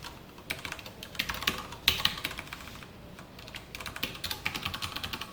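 Code being typed on a computer keyboard during a React tutorial: quiet, irregular clicking keystrokes in short bursts, faint and close, with no talking.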